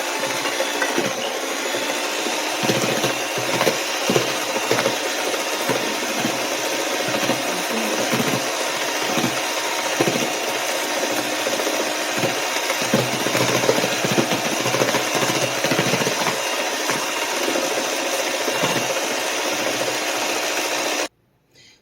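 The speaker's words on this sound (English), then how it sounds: "you're going to add in ½ cup of vegetable oil. You're going to blend that all together." An electric mixer blends cake batter with half a cup of vegetable oil for a strawberry shortcake cake, giving a loud, steady whirring drone for about twenty seconds before it cuts off abruptly.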